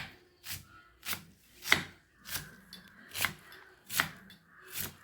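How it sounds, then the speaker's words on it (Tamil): Knife chopping vegetables finely on a board for medu pakoda, a steady series of about seven crisp, close strokes with short pauses between them. "நல்லா நைஸாக நறுக்கிட்டு"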